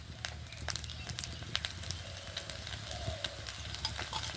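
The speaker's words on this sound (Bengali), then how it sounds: "এগুলো ভাজতে কিন্তু বেশি তেলই লাগে না, খুব অল্প তেলে ভাজা হয়ে যায়" Besan snacks fry in a small amount of oil, a light crackling sizzle with scattered spatters and scraping of a utensil, fairly close, with faint voice-like sounds in the background.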